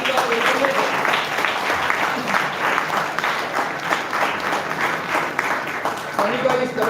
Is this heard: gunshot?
no